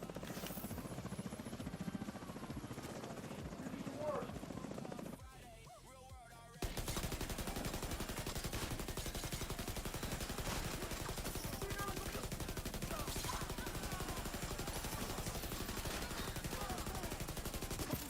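Sustained machine gun fire in the Division 2 looter shooter, dense and unbroken after a brief lull, running as one long continuous burst through a full magazine, loud and close.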